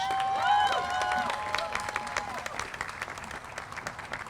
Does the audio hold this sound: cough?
no